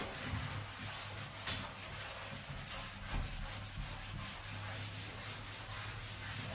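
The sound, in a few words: scrubbing a white bathtub clean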